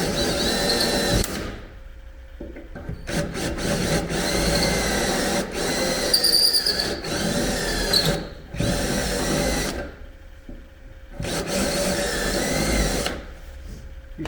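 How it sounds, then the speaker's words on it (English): Power drill with a spot weld cutter boring through the upper cowl sheet metal of a 1980 Chevy Silverado, close whining bursts of drilling that start and stop several times with short quiet gaps between. "You gotta put a pretty good dimple in there so your spot weld cutter don't wander around."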